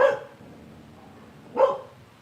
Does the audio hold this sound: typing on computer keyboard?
no